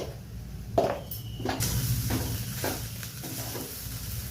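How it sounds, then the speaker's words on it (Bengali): Vegetables for muri ghonto are sautéed in a pan with a little coriander and turmeric powder, a soft, steady sizzle under a few scraping stirs and taps of the spoon, close and moderately quiet, without talk. "অল্প ধনে গুঁড়ো আর হলুদ গুঁড়ো দিয়ে এটাকে ভালো করে কষাবো"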